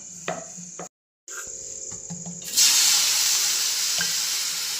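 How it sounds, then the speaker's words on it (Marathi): Light taps and a faint crackle, then a loud steady sizzling hiss starts up and continues, close and even, as stemmed green chilies dry-roast on a hot griddle with no oil. "मिरच्या चांगल्या भाजून घ्यायची त्या आधी तेल टाकलेलं नाही मी अजिबात"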